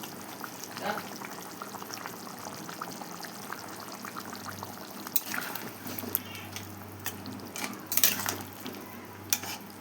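Pieces of boal fish are dropped into hot water in a cooking pan, making splashing and bubbling bursts over a constant low kitchen hiss, with a few louder splashes toward the end.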